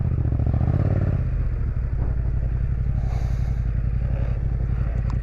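A motorcycle that refuses to start, with its engine turning over in a steady rapid chugging throughout, loud and close, and clatter on top but no clear catch.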